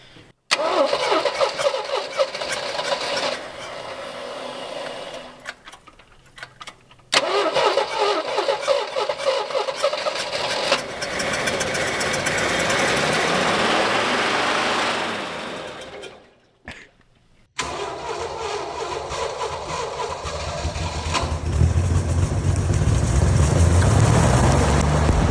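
An AMC Rebel car left abandoned for 35 years cranks and fires, its engine catching and then running steadily with a loud, rough idle, broken by a couple of brief cutoffs and restarts.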